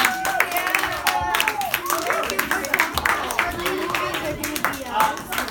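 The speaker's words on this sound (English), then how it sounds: "Let's give Jonathan Coria an applause for being here." A room of people applauds a DreamWorks junior executive visiting as a guest, with steady close clapping mixed with cheers and chatter from the crowd throughout.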